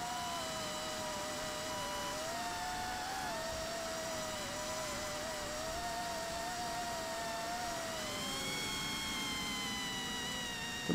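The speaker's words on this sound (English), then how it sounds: "Oh God, this is a fast airplane." An Eachine 180 tiltrotor quadcopter flies fast over desert with a steady high motor whine, its pitch rising and falling as it speeds past and banks, and no speech.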